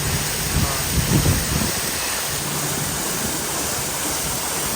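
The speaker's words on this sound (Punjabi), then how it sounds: "ਉਧਰੋਂ ਪਾਣੀ ਸਟਾਰਟ ਹੋ ਗਿਆ ਹਾਈ ਪ੍ਰੈਸ਼ਰ" Steady, loud rushing high-pressure water spray at a car wash fills the whole clip like a constant hiss, with a low mechanical rumble underneath and no voices.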